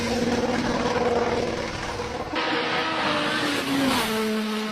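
A Toyota rally car at a European rally stage revs hard and hits the rev limiter, a loud, buzzing engine note with rapid stutters, followed by a shift to a lower steady drone.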